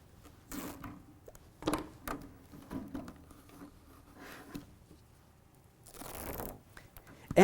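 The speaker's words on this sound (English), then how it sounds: "I can take some of the waterproof tape and add it over top of the dome to hold it all together in a crisscross shape" Waterproof tape is stripped off the roll and pressed over a floral dome in short, separate tearing and crinkling bursts, close and fairly quiet, with pauses between pulls and no talk.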